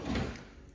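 A kitchen island drawer slides open in one short, smooth movement, close by and clear with no talking over it.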